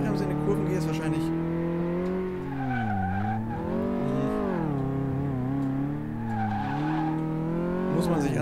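In Car Mechanic Simulator 2018, a car's engine revs and drops continuously while it corners with the handbrake, tires squealing through the turns, loud and close throughout.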